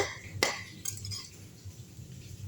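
A spoon stirs vallarai keerai mixed rice in a pan, giving a sharp metallic clink followed by a few lighter scraping taps, quiet and close against a faint background hum.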